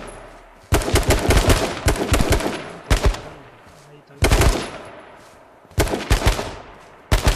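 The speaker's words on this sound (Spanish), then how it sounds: "Míralo adelante que le voy a disparar." Bursts of automatic gunfire in the battle-royale video game H1Z1, four loud rapid volleys separated by brief pauses, with a voice talking faintly between them.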